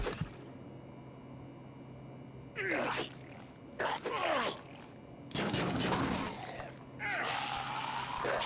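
Gunfire from the video game Fallout Shelter comes in several loud, rattling bursts over a low, steady background hum, with short quiet gaps between the volleys.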